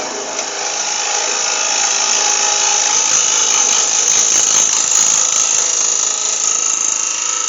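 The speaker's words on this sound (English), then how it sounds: "Give me a lovely undercut under there now. Cut that nice and thin." A wood lathe turns a cherry bowl while a tool cuts a thin undercut, making a loud, steady high whine and hiss that continues without a break.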